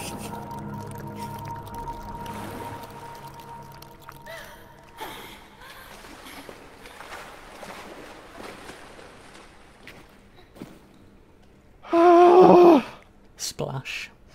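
A sudden loud splash cuts through the quiet, tense ambience of a horror video game, followed moments later by a shorter, sharper burst of sound.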